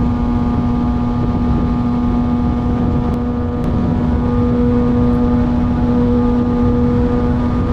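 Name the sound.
wind noise while riding a Kawasaki ZX6R motorcycle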